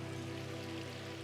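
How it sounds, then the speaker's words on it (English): Rain begins falling outdoors in a park, a steady, even wash of drops that holds at a soft, constant level throughout, with no voices. "the rain's starting to come down again"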